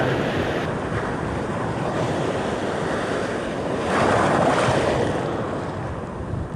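Large ocean waves break on a wild shore in a steady, loud roar of surf, swelling briefly midway, with wind buffeting the microphone and no voices.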